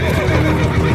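Horses in a folk tale setting neigh and whinny in a brief, loud burst with a hint of hooves, close and dense.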